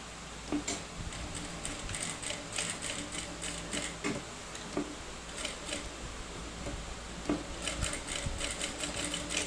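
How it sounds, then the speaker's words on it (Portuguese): A sewing machine topstitches a backpack strap, its needle running in a rapid mechanical chatter with short pauses and restarts, steady and close throughout. "Vamos passar aqui um pesponto só para agarrar aqui a precinta."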